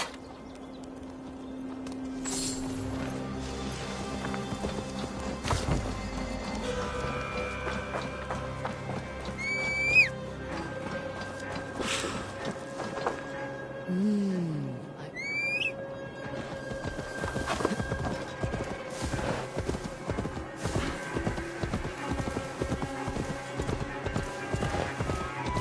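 Horse hooves clip-clop steadily while riding in the video game Assassin's Creed Valhalla, with whinnies and neighs breaking in, bird calls, and an ambient game soundscape underneath, the hoofbeats growing denser and more rhythmic toward the end.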